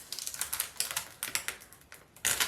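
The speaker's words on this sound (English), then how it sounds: "Then we're going to go ahead and gently peel back our transfer tape." Transfer tape is peeled slowly off a vinyl-decorated wood round, giving a close, crackly stream of small rapid ticks and pops that swell into a louder tearing burst at the end.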